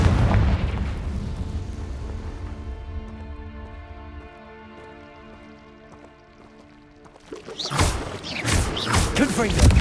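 A Confringo spell blast in Hogwarts Legacy opens with a loud, deep boom that settles into a ringing, tonal tail, then another burst of crackling impacts erupts near the end.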